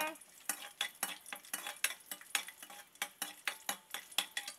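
Ingredients sautéing in hot oil in a pan for an Indian chicken curry, with quick repeated scraping and stirring strokes in a brisk rhythm over a soft sizzle, close by and alone.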